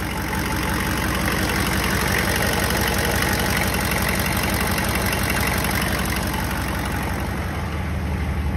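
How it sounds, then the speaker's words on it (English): A 6.5 diesel truck engine idling, fitted with a new injection pump and fluid damper, a loud, steady, even rumble with a fine clattering texture heard close up and alone throughout. "the engine is running a lot smoother than it was"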